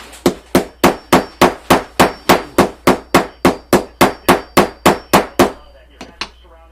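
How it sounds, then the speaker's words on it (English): A hammer pounds a folded paper envelope flat for a faux envelope pocket page, about seventeen loud, close, evenly spaced blows in a steady rhythm, then two softer taps after a brief pause. "You have to just keep hammering it until it goes all the way down."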